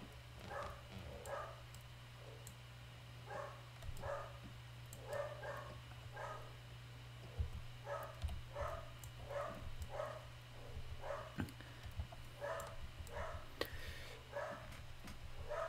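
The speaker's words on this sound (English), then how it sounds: "The dogs are barking a bit" Dogs bark repeatedly in the background, faint and distant, in regular bursts over a steady low hum.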